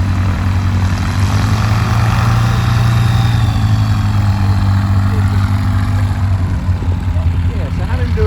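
A Kitfox III light aircraft engine drones steadily and loudly throughout, a continuous propeller hum with faint voices beneath it.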